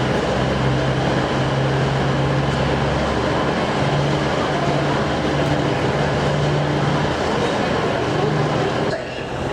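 A train bound back to Huddersfield pulling out of Sheffield railway station, a loud continuous rumble and hum with a low droning tone that persists through most of the clip before easing slightly at the end.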